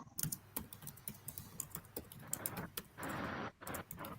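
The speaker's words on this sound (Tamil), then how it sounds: "யாரோ பயங்கரமா டைப் பண்றாங்க." Rapid, irregular keystrokes on a computer keyboard, close and crisp, with one stretch of dense continuous clatter partway through.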